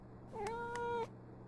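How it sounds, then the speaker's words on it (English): A cat in Life is Strange: True Colors gives a single clear, drawn-out meow lasting under a second, close and alone over a faint steady game background hum. "Let's try luring the cat."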